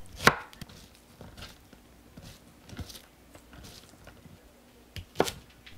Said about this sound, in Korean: 양파 반 개를 얇게 채 썰어 준비합니다.